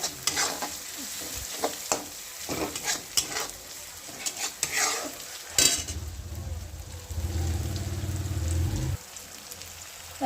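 Pav bhaji vegetables sizzle and fry in a pan while being stirred, with a spoon scraping and clacking in irregular strokes up close, followed by a steadier, louder sizzle that cuts off near the end.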